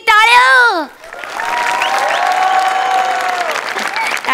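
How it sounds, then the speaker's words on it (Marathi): A village school audience claps loudly and steadily for guest comic actors on a Marathi comedy show, a dense applause that swells after a brief burst of sung or shouted voice and holds for several seconds. "टाळ्यांचा आवाज ऐकलात का सर?"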